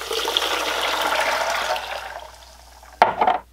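Water runs steadily from a container into a blender holding rice and almonds, making a loud, continuous rushing pour for about two and a half seconds that tapers off, followed by a brief clatter.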